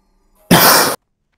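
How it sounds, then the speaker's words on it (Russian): A single short, loud burst of a cough, about half a second long, sudden and close, with only faint murmuring before it and silence after. "Это я, наверное, кашлянул."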